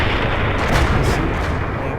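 A Bat.-Châtillon 155 55 tank gun fires in the World of Tanks video game, one heavy, loud booming shot with a rumbling tail that fills the short span.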